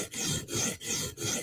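A Spyderco Sage knife in REX 121 steel is drawn across a sharpening stone in four even rasping strokes, each with a brief pause between, close up and with no talking.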